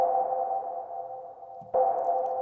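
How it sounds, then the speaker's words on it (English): Synthesized airdrop effects from a Korg Multi/Poly: a steady, ringing sonar-like tone that drops away, then strikes again sharply near the end, clean and alone. "Right here, I've got these airdrops."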